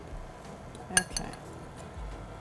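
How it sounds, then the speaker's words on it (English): A spoon clinks against a bowl a few times while chocolate ganache cupcake mixture with coffee is stirred, with one sharper knock near the middle; the sounds are close but fairly quiet. "We're just going to stir this till it's mixed."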